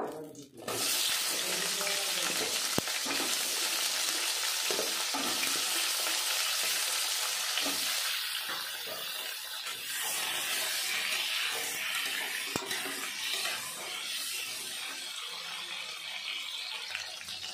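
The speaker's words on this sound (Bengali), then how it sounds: "দিয়ে দেবো একটু সর্ষের তেল, এবার আমি আলুগুলো ভেজে নেব।" Potatoes fry in mustard oil with a loud, constant hissing sizzle, broken by occasional clinks and stirs of a utensil, the spitting settling slightly after the first half.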